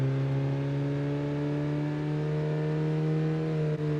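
Car engine in the video game Gran Turismo 4 holding a steady, droning rev with a strong, even tone, loud and close, with no voices over it.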